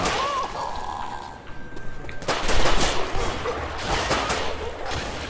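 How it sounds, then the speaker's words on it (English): Guns firing at common infected zombies in the co-op shooter Left 4 Dead 2: after a quiet start, a sudden burst of rapid, close gunfire with a crackling, rattling texture runs to the end. "Yeah, I could spend all day shooting these things"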